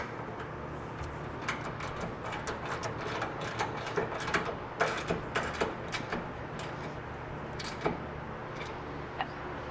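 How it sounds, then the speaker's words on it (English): A wrench tightens the 15 mm outside bolt and 18 mm inside nut on a Fox shock mount of a Ford Raptor, giving irregular close metallic ticks and clicks over a quiet background. "Going to tighten this 15 millimeters on the outside bolt and"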